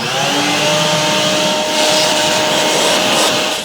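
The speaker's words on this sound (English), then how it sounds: "I'm going to grab the vacuum real quick and suck that out" A loud, steady whine of a vacuum cleaner sucking debris out of a Triumph TR4 gearbox, held close throughout with a continuous droning roar and faint shifts in pitch, no talking.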